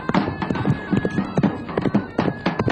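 Several horses galloping, hooves striking in a quick uneven clip-clop rhythm, loud and close, with a brief whinny in the mix.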